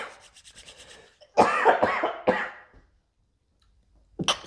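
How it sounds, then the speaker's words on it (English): Harsh coughing fit from a person who has just taken a big hit of Alien Rift cannabis, several loud hacking bursts close up after a faint rustle, then a pause and one more cough. "Yeah, I'm gonna make you cough."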